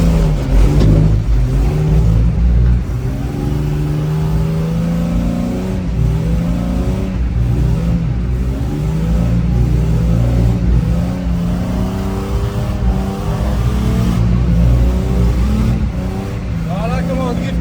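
A drift car's engine revs hard and accelerates through a slide on a worn tyre down to the metal, a loud continuous harmonic roar that rises and falls, with people talking over it throughout.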